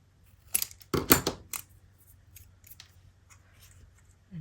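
Scissors snip through pocket fabric during sewing, a few crisp close cuts in quick succession, then quieter handling sounds.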